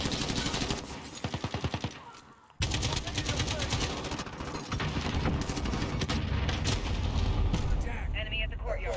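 Rapid automatic gunfire from the video game Modern Warfare, with dense bursts of loud shots, a brief pause, then sustained heavy firing throughout.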